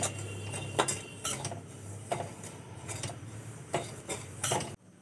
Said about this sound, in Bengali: এই এক বাটি সুজি আমি কড়াইয়ের মধ্যে দিয়ে দেব হালকা নাড়াচাড়া করে ভেজে নেব